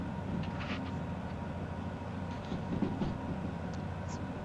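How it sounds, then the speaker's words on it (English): A heavy locomotive engine in the Derail Valley train simulator game drones steadily with low rumbling throughout, a few faint higher clanks and hisses surfacing now and then. "Hear the engine revving up."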